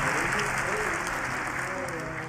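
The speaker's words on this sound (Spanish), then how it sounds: "Denle un aplauso al Señor de señores y al Rey de reyes por ese toque divino." Steady applause from a church congregation during a sermon, a continuous wash of clapping heard at a moderate distance with faint crowd noise.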